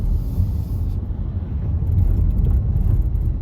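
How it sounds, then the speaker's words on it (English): Cars passing along a road at night, a steady low rumble of engines and tyres that builds and fades, fairly close, with no talk. "there's some cars coming our direction, so gonna have to wait for them to pass"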